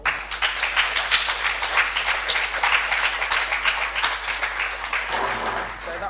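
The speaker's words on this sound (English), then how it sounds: "So if you give George a round of applause." Round of applause from a student audience at a university election question-time debate, many hands clapping steadily and fairly close, fading a little toward the end with a voice starting under it.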